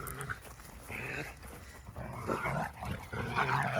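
Farm dogs play and wrestle outdoors in freezing winter weather, giving low scuffling growls amid rustling, all fairly faint and continuous.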